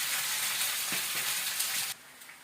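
Onions hit hot oil already frying cumin and coriander seeds, giving a loud, dense close-up sizzle with a few soft stirring knocks before the frying noise drops abruptly quieter.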